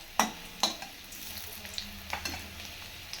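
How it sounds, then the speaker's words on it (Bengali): Very hot oil crackles and sizzles as flour dough fries quickly, with a few sharp pops and spatters standing out against a quiet background. "দেখো খুব তাড়াতাড়ি ভাজা হয়ে যায়, যেহেতু তেলটা খুব গরম"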